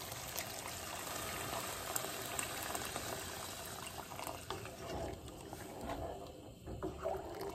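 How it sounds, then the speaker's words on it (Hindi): Water gushes and splashes into a hot pot of fried peas, hissing and bubbling continuously at close range with no voices. "ये भुनना हो गया, अब इसमें पानी डाल दूंगी मैं।"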